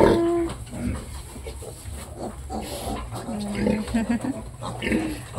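Piglets on a farm squeal and grunt in short, uneven bursts near by, with a steady low hum and rustling underneath throughout.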